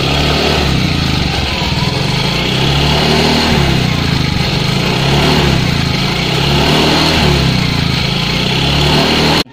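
A Yamaha Mio Soul i 125 scooter engine revs steadily under twisted throttle, a loud, close, continuous buzzing drone with a slight rise and fall, running alone for nearly ten seconds before cutting off.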